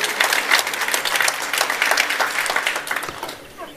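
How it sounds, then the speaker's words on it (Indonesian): Congregation at a church worship service breaking into steady applause, dense overlapping claps close and loud, thinning and fading out toward the end. "Kita beri tepuk tangan untuk kebenaran ini."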